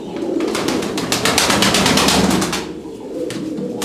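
Fantail pigeons cooing and stirring inside a cage at a pigeon sale, a dense, steady flock murmur that holds loud for most of the stretch before easing slightly near the end.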